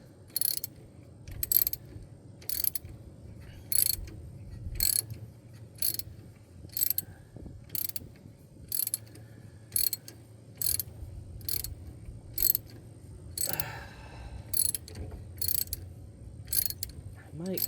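A hand ratchet works a bolt loose on a car engine, giving a steady run of about seventeen short, sharp clicking bursts at an even rhythm, close and clear over a low background hum.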